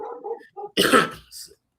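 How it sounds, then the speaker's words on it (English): Hounds barking in the background, a short burst of a few muffled barks and a louder yelp at moderate distance, with no talking over them. "Pardon the background barking. My hounds are looking for me."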